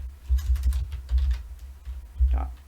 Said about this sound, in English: let's type in Python